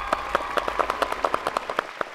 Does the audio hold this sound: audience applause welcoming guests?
yes